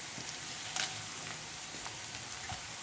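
Shallots, dried chillies and curry leaves frying in a pan, giving a soft, steady sizzle with a few faint stirring taps, quiet and close.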